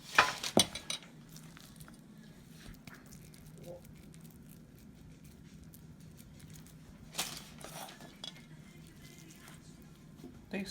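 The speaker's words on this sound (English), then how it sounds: "A pan lined with some parchment paper." A pan lined with parchment paper is handled while preparing crab cakes, giving a loud clatter at the start, a few brief clinks and a second burst of handling later over a low, steady background.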